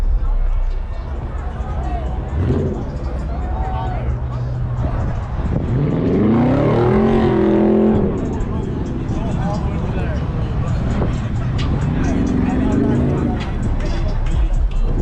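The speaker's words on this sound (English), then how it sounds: "there's burnouts going on over there, over here, everywhere" Cars doing burnouts at a big car meet in Michigan, engines revving and roaring under a busy crowd with people talking and shouting nearby throughout.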